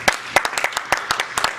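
A church congregation keeps up lively applause for the Lord, with loud, steady clapping bursts arriving in an uneven rhythm, close and full, with no voices rising above it.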